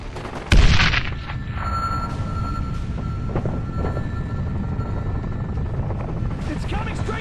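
An incoming missile strike in the video game Sniper Ghost Warrior 2, opening with one loud sudden blast followed by a rumbling, whooshing aftermath under a steady engine drone, with voices talking over it.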